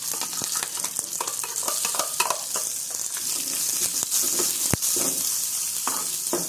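Coconut chutney being stirred and mixed, a close, continuous wet scraping and sizzle-like crackle with one sharp knock partway through.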